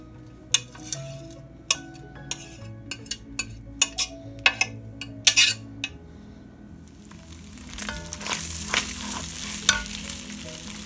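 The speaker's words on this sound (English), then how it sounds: "I'm going to add my chopped up bacon to this and get that browned up." Chopped bacon fries in its own drippings inside a Dutch oven, with a steady sizzle punctuated by sharp utensil clinks and stirring knocks against the pot, the sizzling swelling louder toward the end.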